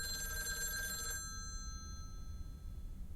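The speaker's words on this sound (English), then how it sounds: "Phone rings." A telephone rings in the video game Lake, a bright electronic trill that stops after about a second, leaving only a quiet low hum.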